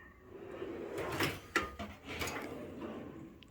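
A soldering drawer in a home train-room workshop slides open or shut with a soft wooden rumble and a couple of small knocks, close by and fairly quiet.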